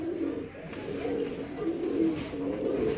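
A male pigeon coos in a steady, repeated low warble, close by and fairly quiet, with no talking over it.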